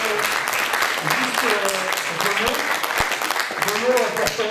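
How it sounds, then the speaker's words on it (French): Audience at a French conference lecture applauds in a steady patter of many hands, with voices talking and a few louder thumps mixed in over the clapping. "vous pouvez l'applaudir"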